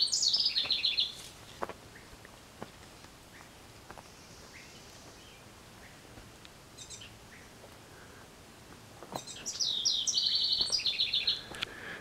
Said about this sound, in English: Lots of birds in this garden.